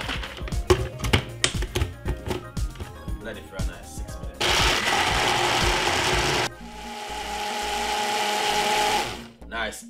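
A blender whirs in two sustained bursts, blending raw peanut punch, loud and close, after a stretch of clattering and handling noises.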